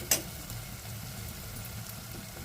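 Spice masala sizzles softly in hot oil in a pan for black-eyed pea usal, a low, even crackling hiss after one brief sharp clink at the start.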